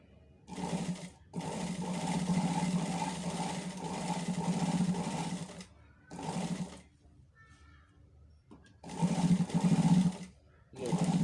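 Sewing machine stitching a high neckline, running in several loud bursts of rapid steady whirring separated by short pauses, with no voices.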